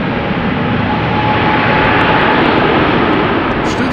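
A passenger jet at Amsterdam Schiphol Airport roars loud and close, a dense, steady engine rumble that holds for the whole stretch.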